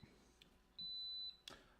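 A single steady electronic oven timer beep, about half a second long, sounds over a quiet room, followed by a short clunk.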